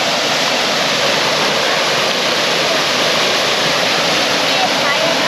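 A waterfall in Georgia roars as a constant, loud, broadband rush of falling water, close by and unbroken from start to finish.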